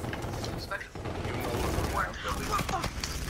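Rapid gunfire in the shooter video game Call of Duty: Infinite Warfare, dense continuous mechanical bursts filling the whole stretch at steady loudness, alongside other game effects.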